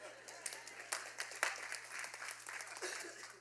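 Scattered audience clapping during a church sermon, faint and brief, with uneven claps spread over a few seconds.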